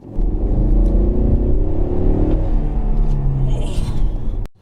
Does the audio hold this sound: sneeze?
no